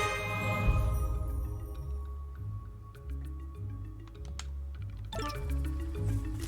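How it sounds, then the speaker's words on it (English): Rapid, irregular clicking of fingers typing on a computer keyboard, close and steady throughout, with faint game music and chimes behind it. "I'm gonna type something."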